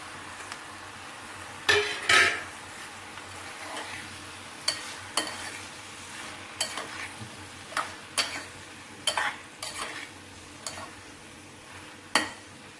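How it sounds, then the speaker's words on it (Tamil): Tomatoes frying in a pan give a quiet sizzle, broken by a dozen or so sharp clinks and scrapes of a spoon stirring against the metal, close by and with no talk. "இப்போ இதில் தக்காளி போட்டுடலாம்"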